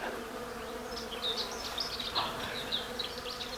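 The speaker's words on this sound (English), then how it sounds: "you can just listen to how many bees are in this crab apple" Many bees buzz among the blossoms of a crab apple tree outdoors, a soft continuous hum with individual insects drifting nearer and farther, faint and unbroken by talk.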